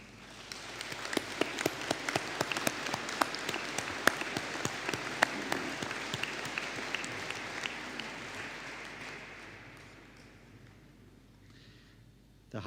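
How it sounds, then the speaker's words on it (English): Sustained applause fills a graduation ceremony hall as culinary arts bachelor's graduates stand, dense steady clapping that holds for about ten seconds before thinning out and fading. "please, for a round of applause."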